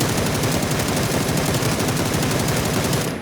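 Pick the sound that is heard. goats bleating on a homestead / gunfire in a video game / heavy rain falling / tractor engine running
gunfire in a video game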